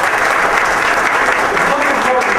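An audience gives Bonnie Green a round of applause. The clapping is loud and dense and carries on without a break through the whole stretch.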